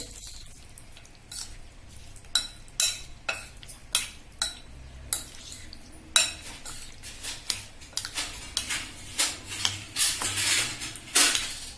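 A spoon scrapes and clinks against a bowl again and again in an irregular rhythm, close and clear, while paneer, onion and capsicum are mixed into a marinade.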